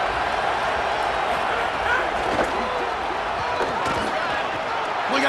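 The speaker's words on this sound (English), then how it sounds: "this crowd is fired up. Listen to this noise here" Roaring stadium crowd at a college football playoff first-round game, a steady, dense wash of cheering and noise throughout, with a voice talking over it.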